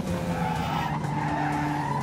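A race car's engine in the RaceRoom racing video game rises and falls through a quick double downshift, a steady loud engine note with tire noise and no talk.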